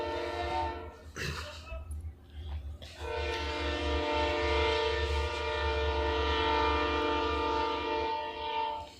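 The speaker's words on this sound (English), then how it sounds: "the train rolls by here at Duncan Field" A train rolls past a college baseball field at Duncan Field, a steady loud rumble with a long sustained horn blast over it throughout.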